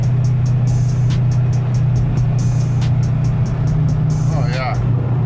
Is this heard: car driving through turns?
yes